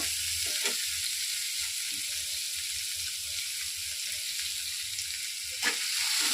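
Spices and boiled taro frying in hot oil while being stirred, a steady close sizzle throughout with faint scraping of the stirring utensil and no talking.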